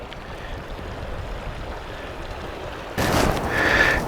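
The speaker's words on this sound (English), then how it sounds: "This one is bubbling up quite a bit, putting out some water" Hot spring water bubbling and gushing in Yellowstone's geyser basins between Norris and Old Faithful, a continuous watery hiss that surges louder and fuller near the end, with no voices.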